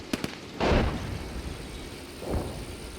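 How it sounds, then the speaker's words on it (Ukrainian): Gunfire in a tank video game with a Marder A1, two heavy booming shots about two seconds apart after a couple of faint sharp clicks, each fading into a rumbling tail. "Чую постріли."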